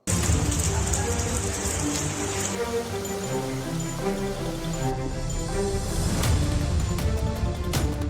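Dense, steady rainfall from Cyclone Ditwah on the Tamil Nadu coast hisses throughout, a broad constant wash of drops with no pauses and no voices.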